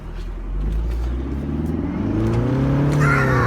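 A 2014 Mercedes-Benz SLK250 roadster with a turbocharged engine accelerates, its low engine drone rising steadily in pitch, heard from inside the car over a constant rumble.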